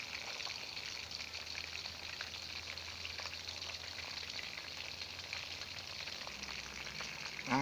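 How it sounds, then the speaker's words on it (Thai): Steady, close sizzling and crackling of lightly battered chicken frying in hot oil over low heat, continuous and unbroken with no talking. "ทอดอีกข้างหนึ่งครับ"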